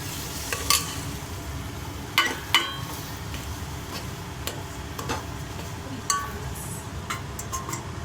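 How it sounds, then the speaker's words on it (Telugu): Semolina (rava) frying and being stirred in a pan for tomato bath, a steady low sizzle broken by a few sharp scrapes and clicks of the spoon against the pan, close and moderately loud, with no talking. "మనం రవ్వ వేసుకొని ఫ్రై చేసుకుందాము"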